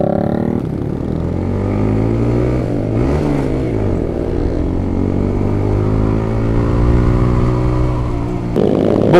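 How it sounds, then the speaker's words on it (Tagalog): Motorcycle riding on a road near Suyo, Sagada, with a steady loud engine drone throughout, pitch dipping and rising as the rider shifts and revs, closing with a sharp burst of acceleration; no talking. "Ang hirap sumakay sa motor ko."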